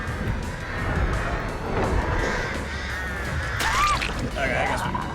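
Crows cawing around a character in the video game The Killer Adept Gauntlet, harsh calls rising over a dense busy game soundscape, with a clear upward-sweeping cry near the end.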